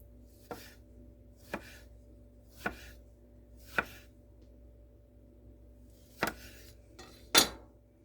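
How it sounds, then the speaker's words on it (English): A knife slices a strawberry on a cutting board for a salad: six crisp, separate cuts at uneven intervals, close and clear, with no talking. "We're going to slice a nice strawberry onto this salad as well."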